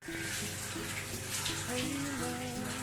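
Shower water running steadily in a travel lodging in Sri Lanka, a continuous close hiss and splash, with a voice talking over it.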